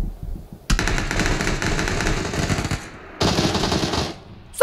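Rapid bursts of automatic gunfire from a rooftop fight in PUBG, loud sustained volleys broken by a short pause before another long burst, with no speech.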